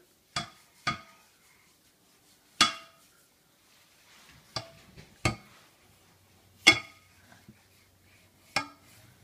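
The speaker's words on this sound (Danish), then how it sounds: "Du vasker gryde." A pot being washed, with scattered sharp metallic clanks of dishes and cookware knocking together, about eight separate hits spaced irregularly over quiet pauses.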